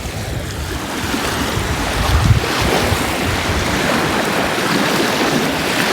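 Ocean waves wash onto a sandy beach at a lagoon campsite. The surf makes a steady, loud broadband rush with wind buffeting the microphone and a slightly stronger surge midway, and no voices are heard.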